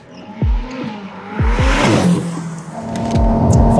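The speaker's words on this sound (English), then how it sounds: "you're able to hear the V12" A Ferrari 599 GTO V12 engine growls and revs up repeatedly, with rising pitch sweeps as it accelerates through gears, loud and close, over road and tire noise.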